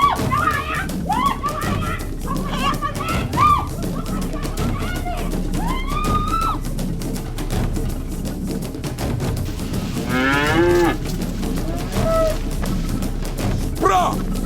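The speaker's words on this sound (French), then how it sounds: "cette vache!" A cow lows a few times, fairly close, among continuous farmyard clatter and thumps, while people talk and shout over it throughout.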